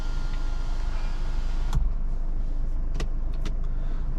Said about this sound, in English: and then the sunroof opens.